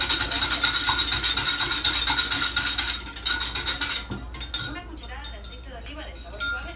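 A spoon or fork whisks mug cake batter inside a mug, making fast, rhythmic scraping clinks for about four seconds before the strokes fade to softer, scattered taps.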